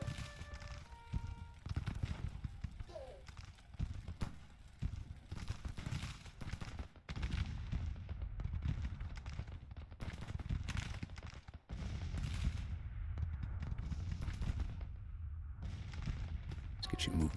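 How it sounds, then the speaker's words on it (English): Gunfire directed at skirmishers in the Civil War strategy game Grand Tactician, with dense crackling volleys and thudding shots rolling on continuously throughout, moderately loud, while someone talks over the battle. "They're turning their guns on our skirmishers."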